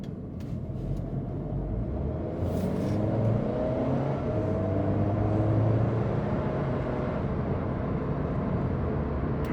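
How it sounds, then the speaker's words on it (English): Steady low rumble inside a 2022 Audi A3 40 TFSI quattro on the move, with engine drone blended with road and wind noise, fairly even throughout with no talking. "You can hear a little bit of road noise, a little bit of wind noise, a little bit of engine noise."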